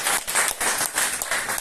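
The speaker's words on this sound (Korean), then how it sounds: "박수 한번 환영해 주세요." Congregation applause welcoming a guest at a Sunday church service, brief dense clapping from many hands, steady and fairly loud, with no voices over it.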